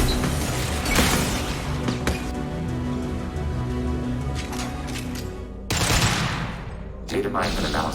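An overridden turret lets loose dense, rapid gunfire in the sci-fi game Mass Effect 2, loud and sustained over several seconds with sharp crashes and brief pauses between volleys.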